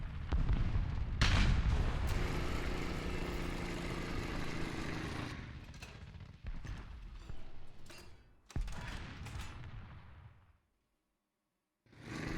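Tank gunfire in the War Thunder video game: heavy, booming cannon blasts and sustained battle noise fill most of the stretch, with sharp reports near the middle and end, broken by a brief silence before a final shot.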